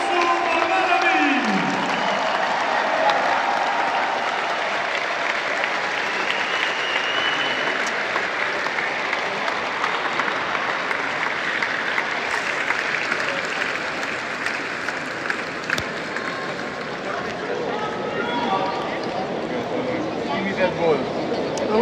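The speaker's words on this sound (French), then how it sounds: "Encore un bonheur d'applaudissements pour nos quatre légendes, Arnaud Clément, Cédric Colline," An audience at Roland Garros applauds four tennis legends during the Trophée des Légendes, with steady, dense clapping and some crowd noise sustained throughout, loud and close.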